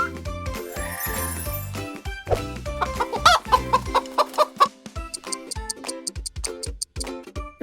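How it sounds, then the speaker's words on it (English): A rooster clucks and squawks in a string of short, sharp, close calls, with a tinkling jingle sounding alongside. "Rooster."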